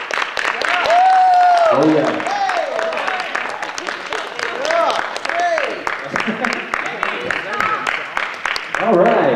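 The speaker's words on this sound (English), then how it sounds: "Please, keep applauding." Audience applause for a man named Elliot, a steady broadband wash of clapping running through the whole stretch while voices talk and call out over it.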